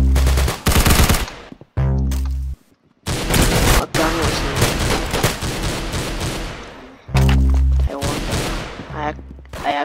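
Rapid bursts of automatic gunfire from a gun in a Roblox video game, loud and close, several sustained volleys broken by short gaps, with a voice talking at times.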